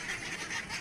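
A flock of frightened 49-day-old ducks gives off a dense, continuous, rasping chatter of calls, fairly close, with no talking over it.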